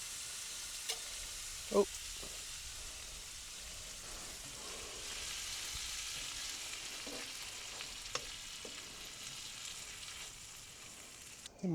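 Tomatoes and chili flakes sizzle and fry in a pan, a soft, continuous crackle that carries on throughout. A few brief clinks and stirring knocks break in near the start, and a voice makes a short exclamation.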